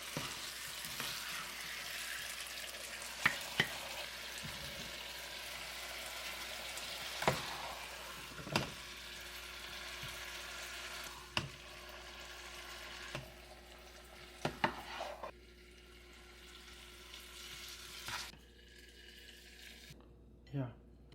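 Beef and pumpkin stir-frying in a wok: a steady, faint sizzle runs throughout, broken by scattered sharp clicks and knocks of a utensil against the pan.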